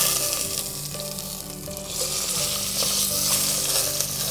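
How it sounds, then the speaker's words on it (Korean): Thick pork belly sears in a hot pan over medium heat, a steady close sizzle and crackle of fat running throughout with no talking. "처음에 고기의 사면을 1분씩 시어링 해주도록 하겠습니다"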